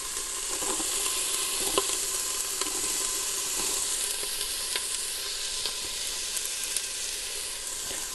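Onion sizzles in a frying pan with a dense, continuous crackle and scattered sharper pops, close and even throughout, for a spicy kimchi chili.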